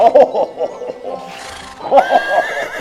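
A horse neighs loudly and close by in a comic sound effect: a series of sharp whinnying bursts, a short pause, then a longer rising whinny, with light clip-clop hooves mixed in.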